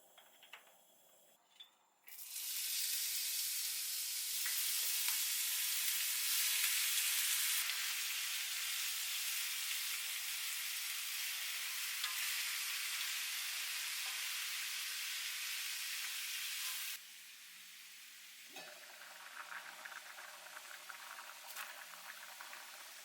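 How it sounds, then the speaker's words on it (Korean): Perilla oil hits a hot cast iron pan and bursts into loud, steady sizzling that holds for about fifteen seconds, then eases into quieter, crackling frying. "중불에 솥을 올리고 팬에 들기름을 잘잘 부어준다."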